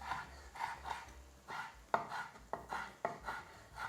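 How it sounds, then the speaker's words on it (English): A knife chops guanciale into small pieces on a board, giving a steady run of sharp, close chopping strokes with a few harder hits, with no talking. "We will cut some little pieces"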